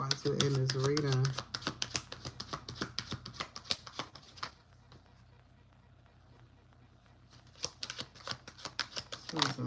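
Tarot cards riffle and snap in rapid bursts of crisp, close papery clicks, pausing briefly midway before the quick shuffling resumes; a voice speaks near the start.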